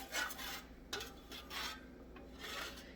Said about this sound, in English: I'm going to kind of just stir that in.